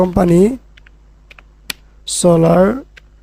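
A few soft, sparse keystrokes tap on a computer keyboard between two stretches of someone speaking, close and quiet.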